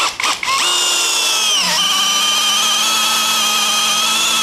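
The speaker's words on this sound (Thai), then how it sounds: "ดูซิว่าจะเจาะได้ไหมบอกก่อนนะนี่คือเกินงานของมันไปเยอะเลยนะเพราะนี่ดอกขนาด25มิล" PUMA PM-1016BL 16V cordless drill boring into wood with a 25mm bit: a few short trigger blips, then a loud steady motor whine that dips under load, then holds for several seconds.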